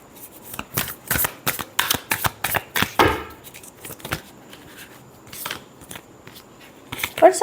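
Tarot cards shuffled by hand in a quick series of sharp riffling bursts, close and loud, followed by a few softer card handling sounds.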